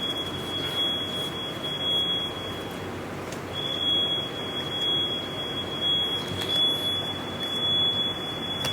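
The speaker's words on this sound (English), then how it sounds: "The fire alarm going off." A fire alarm beeps in repeated high tonal bursts over a low background rumble, steady and moderately loud throughout.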